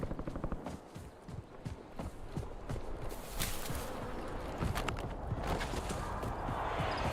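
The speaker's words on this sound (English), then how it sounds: "Or is that my own footsteps I'm hearing?" Footsteps in the video game Warzone, a steady run of soft thuds and scuffs that continues through the whole stretch against background game noise, close and moderately loud.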